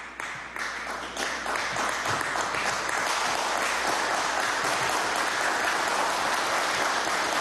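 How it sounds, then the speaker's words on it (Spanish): A team at a working meeting in Miraflores applauds in a steady, dense wash of clapping that continues throughout, fairly close. "A ustedes, desde aquí un aplauso."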